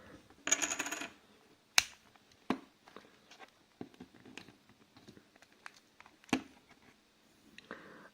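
A Sony Ericsson Xperia X10 Mini phone casing is pried open with sharp plastic clicks and snaps, scattered irregularly between quiet scraping handling noises, close up with no talking.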